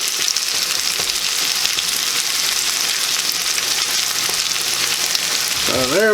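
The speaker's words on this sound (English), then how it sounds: "just flip these over and cook them a little bit better here." Hoecakes sizzling steadily in a hot pan, a dense continuous frying hiss close to the microphone, with a brief clatter of the cakes being turned near the end and no talk.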